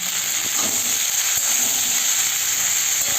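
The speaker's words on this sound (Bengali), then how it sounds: "সবজি কেটে রেখেছিলাম, সেই সবজিগুলোকে আমি তেলের মধ্যে দিয়ে দেবো" Mixed vegetables for a Bengali vegetarian labra sizzle in hot oil with salt and turmeric, a dense continuous close frying hiss with a few faint stirring knocks and no voices.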